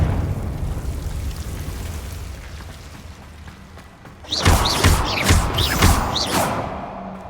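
A Confringo fire spell from Hogwarts Legacy goes off after a quiet rumbling stretch, a burst of sharp blasts and whooshing impacts repeating several times, loud and close, with no voices.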